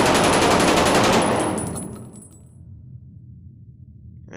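In the video game Blood Trail, a shooter fires a loud, rapid burst of automatic gunfire that lasts over a second, then fades into a reverberant tail with faint metallic tinkles.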